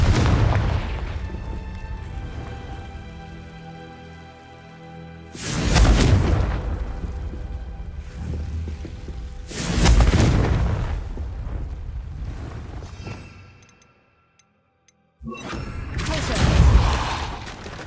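The Confringo explosion spell in Hogwarts Legacy goes off in several loud booming blasts spaced seconds apart, each with a rumbling tail, separated by quieter game ambience and a brief silence.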